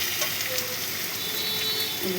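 Atap rice frying in a pan to go with jackfruit gives a soft, steady sizzle, continuous and moderately close, with faint faraway sounds and no speech.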